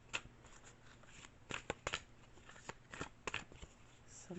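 Tarot cards are shuffled and drawn from a deck in a quiet room, soft papery riffles and several crisp flicks and slaps of cards, close and faint, with no talk.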